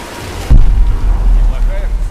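A heavy thunder boom hits suddenly in a rainy storm in the video game Tomb Raider, then rolls on as a loud, deep rumble.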